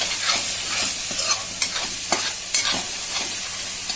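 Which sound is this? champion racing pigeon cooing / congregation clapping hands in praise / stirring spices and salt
stirring spices and salt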